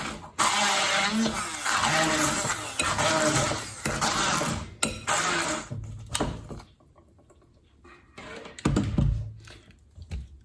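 A stick blender whizzing kimchi ingredients into a paste gives loud, rough, grinding bursts in stop-start pulses, then falls quieter near the end before another short burst.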